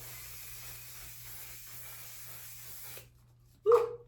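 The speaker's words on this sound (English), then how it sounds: "spraying a little bit of the One Size on to set everything in" A steady aerosol hiss of makeup setting spray sprays for about three seconds close by, then stops; a dog barks once shortly after.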